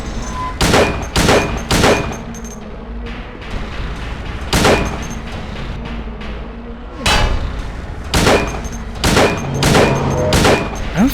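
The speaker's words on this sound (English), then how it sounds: "I'm finally forced to use my 140 bullets and learn how to use it" Loud, close gunshots from the 2001 video game Silent Hill 2, fired in irregular clusters of sharp cracks with brief pauses and ringing tails between volleys.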